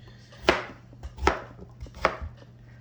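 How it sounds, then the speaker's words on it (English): A knife chops food into small cubes for steak fajitas, striking a cutting board three times at a slow, even pace. The thuds are close and sharp over a low background hum. "I'm gonna cut these kind of small so they'll cook evenly, like in little cubes."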